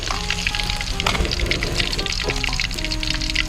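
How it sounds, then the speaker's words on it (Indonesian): Fresh fish frying one by one in hot oil, a dense close crackling sizzle with scattered pops and spits throughout. "Satu persatu ikan kita goreng sampai matang"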